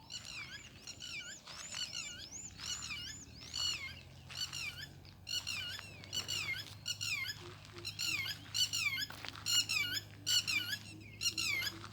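Birds call repeatedly in a cassava plantation in the afternoon, sharp squeaky chirps in rapid bursts close by over a low steady background hum.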